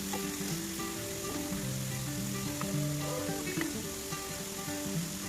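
Potato pieces fry in a pan with a steady, close, dense sizzle that holds evenly for several seconds, a faint tonal hum running underneath.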